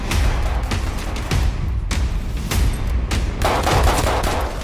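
Loud Battlefield 5 gunfire, a dense run of sharp shots and bursts with heavy booming impacts, close and continuous throughout.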